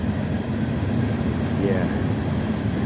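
Freight train locomotive switching cars at a chemical plant gives a continuous low rumble and rolling rail noise, with a brief squeal partway through, steady and moderately close.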